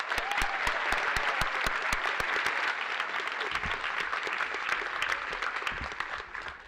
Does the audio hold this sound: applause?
yes